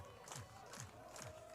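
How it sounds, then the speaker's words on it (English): Baseball fans at a high school playoff game clap in rhythmic bursts from the stands, a steady pattern of three strong swells over distant crowd murmur, faint and far off. "Here in Piedmont, the fans clapping."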